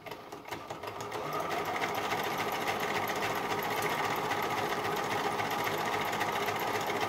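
A sewing machine fitted with a buttonhole attachment stitches a buttonhole for a bag, starting up and then running loud, fast and steady throughout, close by with no talk.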